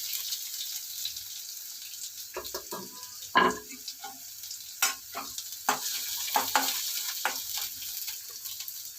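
Onions fry in a pan in a soft continuous sizzle, broken by several sharp scraping and stirring clatters, for a home-cooked upma pesarattu.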